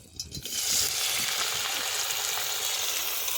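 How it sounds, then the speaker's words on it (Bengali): Shrimp fry in a pan with a loud, steady, close sizzle that starts up sharply and holds without a break. No one speaks. "এ চিংড়ি ভাজছি এখন।"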